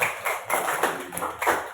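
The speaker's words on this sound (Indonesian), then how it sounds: "Tepuk tangan untuk empat teman kita yang sudah menyampaikan." A few people in a classroom clapping for four presenting colleagues, giving a light, sparse round of about five slow, evenly spaced claps at close range.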